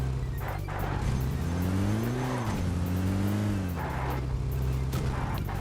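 A car in PUBG Mobile drives along a road with a steady, loud engine drone that swells and falls as it shifts gears, with faint tire noise and no talking.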